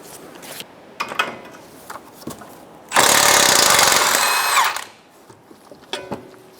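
An impact gun on a 19mm socket spins off the outer tie rod end nut of a 2012-2016 Subaru Impreza, a loud close whirring burst lasting about two seconds between scattered clanks and handling noises.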